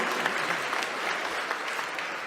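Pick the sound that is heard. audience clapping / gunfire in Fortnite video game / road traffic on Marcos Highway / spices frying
audience clapping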